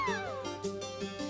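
A cat meows in the video game Chicory, one close, clear, drawn-out meow with a falling pitch, followed by a few short tonal game sounds.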